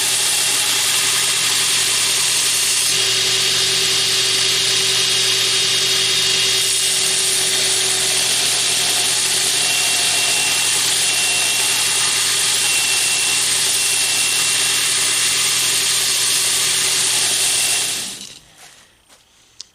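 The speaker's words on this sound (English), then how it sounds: "in just about a minute and a half of grinding on that aggressive belt, we've gotten most of that steel out of the way" A belt grinder with an aggressive 36 grit ceramic belt hogs steel off a ring knife blank: a loud, continuous abrasive roar with a steady motor hum, unbroken for nearly eighteen seconds before spinning down into near silence.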